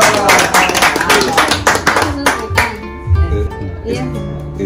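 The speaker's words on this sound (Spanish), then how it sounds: "un fuerte aplauso para acá" Brisk handclapping from a small group at a community gathering, close and fairly loud for a couple of seconds before giving way to tonal background sound and voices.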